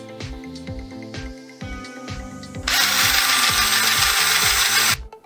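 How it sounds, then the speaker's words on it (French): A power drill spins a pencil fitted with several zip ties as a makeshift mixer, giving a close, loud rhythmic whirring with repeated start-stop pulses, then a louder, brighter continuous run before it cuts off. "Fixez plusieurs attaches autobloquantes à un crayon, insérez-le dans une perceuse, et vous aurez un mixeur improvisé"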